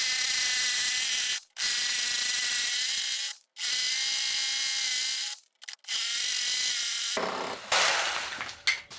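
A cheap battery power tool bought from Amazon runs through four or five cuts in a row, each a loud, high whining burst of about two seconds separated by short silences, close and without talk, ending in rattly clatter.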